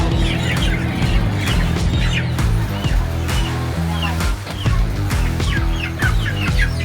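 Dense flock of chickens clucking and squawking inside a large poultry house as the last birds are cleared out, a constant overlapping chorus with steady machinery hum underneath.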